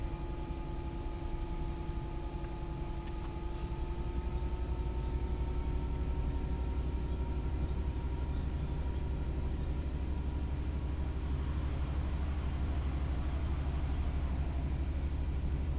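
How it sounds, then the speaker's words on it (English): Opposing trains rumbling past in the Train Sim World 4 video game, a steady low rolling drone with faint tonal hum, moderately quiet and continuous with no speech. "I can hear more of the opposing trains than I can of my own horn"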